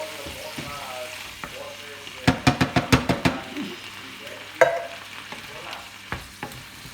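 Tomato sauce stirred and heated in a pan while cooking prawn orzo risotto, with a quick run of sharp spoon clatters against the pan over a low sizzle, then a few scattered scrapes.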